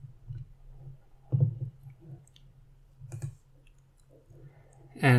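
A computer mouse clicks a few times at a desk, quiet and close: separate single clicks spaced out over a low background hum, with no talking.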